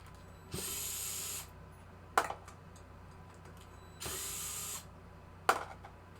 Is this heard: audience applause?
no